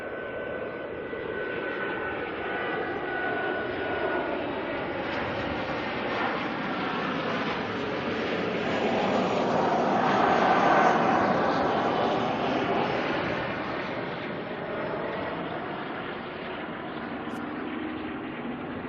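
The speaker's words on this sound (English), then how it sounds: "Got a 737-400 coming in next. Airwork, one of the freighters." An Airwork Boeing 737-400 freighter arrives at Auckland Airport, its distant jet roar swelling to a peak midway and then easing off, steady and alone.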